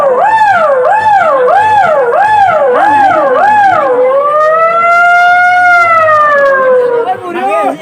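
A voice imitates a 108 ambulance siren on a comedy stage, loud and close: a rapid wailing yelp repeated about six times, then a long slow rising and falling wail.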